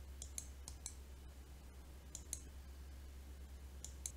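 Sharp computer mouse clicks in small clusters, two or three quick taps at a time with pauses between, faint and close over a steady low electrical hum.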